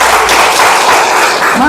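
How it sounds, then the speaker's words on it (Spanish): Applause from a church congregation, dense steady clapping that fills the whole moment, loud and close with a crowd texture throughout. "Denle un aplauso al Señor."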